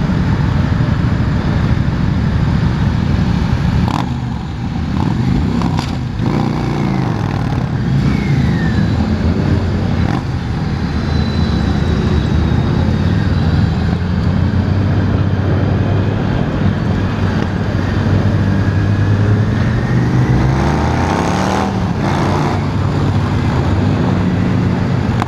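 A loud, sustained Honda Valkyrie F6C motorcycle engine roar with wind rushing past, the pitch climbing and shifting as it speeds along for a long stretch.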